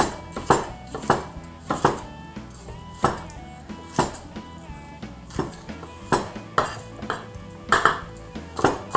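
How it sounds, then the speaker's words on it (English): Knife slicing a pepper skin-side down on a cutting board, producing a steady series of sharp chopping knocks at an even, unhurried rhythm, close and clear with faint background ringing. "Now notice you are cutting it with the shiny side of the pepper down."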